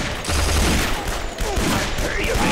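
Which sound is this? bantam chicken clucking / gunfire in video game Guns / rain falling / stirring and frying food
gunfire in video game Guns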